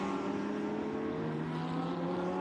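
Lamborghini Cup race car in the Lamborghini World Finals slowing as it enters the pit stop, a steady, loud engine drone with sustained harmonic whine and no clear revving change.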